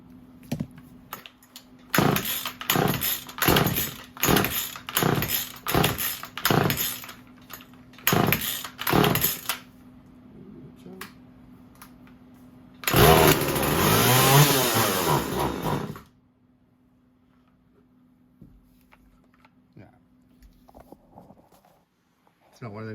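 Restored Stihl or Husqvarna chainsaw engine, loud close bursts of repeated short revs in an uneven rhythm, then a sustained roaring rev for about three seconds before cutting out, leaving near silence with faint handling noises.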